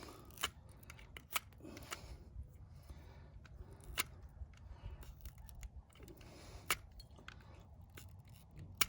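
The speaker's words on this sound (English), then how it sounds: "But I'm just taking off this outer coating on here. This plastic stuff." Plastic outer coating being stripped off copper wire, a series of irregular sharp snips and clicks over a faint background rustle, close and quiet.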